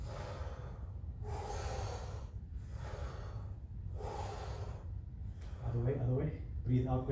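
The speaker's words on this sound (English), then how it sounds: "breathe out, going up, breathe in, coming down." Audible breaths out and in during slow push-ups, three soft rushes of air in a steady rhythm, with a person speaking over them near the end.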